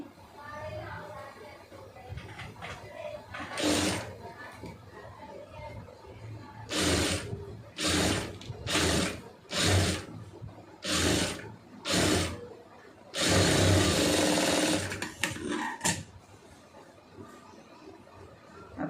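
A domestic sewing machine stitching the puff sleeve of a lined blouse: several short bursts of running stitches, each a second or so long, separated by pauses, with a longer run near the end and quiet movement between them.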